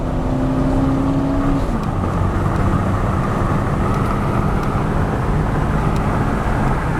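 A truck accelerating up a freeway on-ramp, its engine droning loudly and steadily with wind and road roar filling the cab throughout, no voices.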